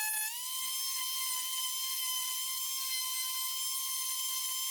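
Dremel rotary tool carving a wood spirit face from wood, a high steady whine held close and continuous with slight grinding texture as the bit cuts, with no talking.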